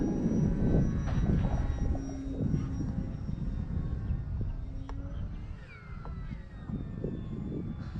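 A small RC Tecnam model airplane drones steadily at a distance, its engine whine shifting in pitch as it flies, with faint outdoor background noise.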